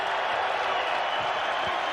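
A basketball arena crowd roars during a Utah State vs Boise State NCAA men's game, a steady, dense wash of cheering and applause with no breaks, loud and enveloping.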